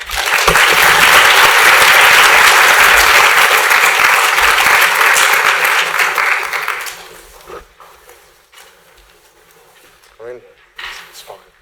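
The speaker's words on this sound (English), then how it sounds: "Let's give a round of applause for that." A loud round of applause from a crowd at a hackathon closing ceremony, sustained for several seconds and then fading out, with scattered voices and light knocks afterward.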